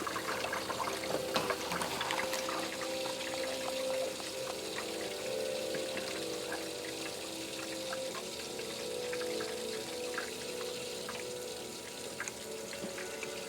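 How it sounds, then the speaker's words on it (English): A pump drives water through a custom PC watercooling loop during filling and leak checking, giving a continuous trickling, gurgling flow with a faint steady hum, close and even throughout. "Okay, let's put pump again."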